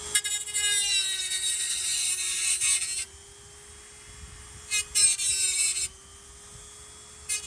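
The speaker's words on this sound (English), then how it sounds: "the metal is just raw cut, so we're gonna grind it so that it's nice and smooth so nobody gets injured on it" A grinder smoothing the raw cut edge of a heavy metal door, heard in loud harsh bursts of grinding over a steady motor whine, stopping and starting with quieter gaps between passes.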